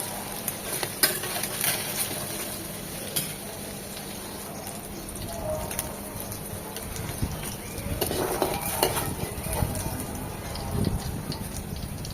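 Pieces for a hilsa fish head curry fry in oil in a pan with a continuous crackling sizzle, punctuated by occasional scraping and stirring knocks; close and steady, with no one speaking.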